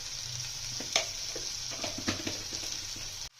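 Meat frying in a pan with Kashmiri chili powder, a steady close sizzle with scattered crackles and a few sharper pops, no talking.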